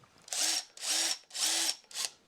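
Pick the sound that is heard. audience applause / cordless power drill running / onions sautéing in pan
cordless power drill running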